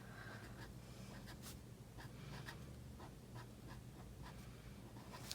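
Pen writing on paper while planning a household budget, a soft, steady scratching of strokes close by and faint under a quiet room, with no speech.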